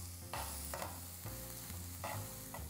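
Garlic frying in a pan while it is stirred, a steady soft sizzle broken by a few scraping stir strokes, close and fairly quiet with no voice.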